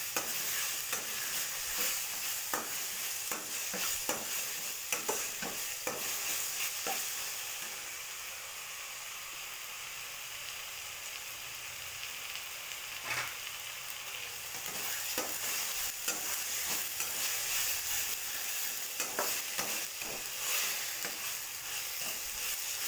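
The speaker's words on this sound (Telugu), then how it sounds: "ఇది కూడా బాగా ఫ్రై అవ్వాలి." Mustard paste is fried and stirred in a pan for fish curry, a steady sizzle running the whole time with occasional scraping clicks from the stirring and no voices.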